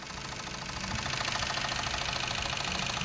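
A 2020 GMC Terrain's 1.5-liter turbocharged engine runs steadily at idle, a close, even mechanical hum with no voices over it.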